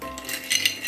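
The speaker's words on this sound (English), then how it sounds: "We'll give it a stir." Ice clinks against a glass as a Black Russian of Kahlúa coffee liqueur and vodka is stirred, a few bright close chinks and knocks with no voices.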